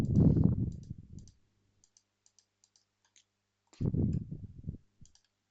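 Mouse clicks on a computer while setting up a tab group, a sparse run of small, sharp, fairly quiet clicks spaced irregularly between stretches of speech at the start and end.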